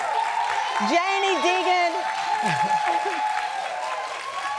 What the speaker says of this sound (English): I know the audience wants to clap a lot louder, but we all have cookies in our hands and we're eating.